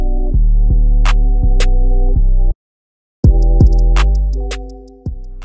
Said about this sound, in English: Next, I got my foil shavers, and I'm gonna go ahead and bald out just beneath the bald line